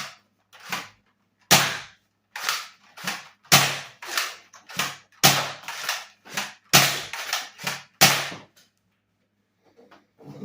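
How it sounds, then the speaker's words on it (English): A modified X-Shot Pro foam blaster, tuned to around 300 FPS, fires a series of about a dozen sharp, loud pops in an uneven rhythm, each followed by a brief mechanical rattle, with no talk. "I'll give you a firing down."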